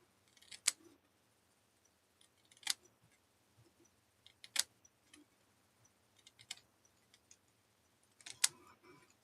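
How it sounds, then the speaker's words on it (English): Scissors snip through ribbon down its center in a quiet craft setting, making about six short, sharp cuts spaced a second or two apart with silence between them. "So we're just going to trim down the center."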